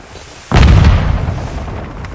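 A smoke grenade goes off in Modern Warfare 2, a single sudden close pop-boom followed by a loud rushing hiss that slowly fades.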